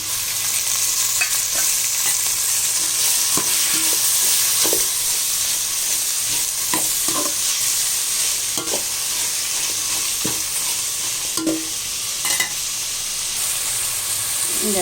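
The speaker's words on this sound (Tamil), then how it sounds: "இப்போ நல்லா இது வெங்காயம் தக்காளிலாம் நல்லா வதங்கி வரணும்" Onions and tomatoes sauté in a pan for seeraga samba chicken dum biryani, giving a steady, close sizzle with repeated scraping stir strokes throughout and no talking.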